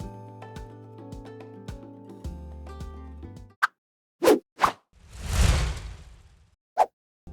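A pound and a half of lean ground beef goes into a skillet over medium-high heat, landing with a few quick thumps and a soft, broad whooshing splat, after a stretch of music.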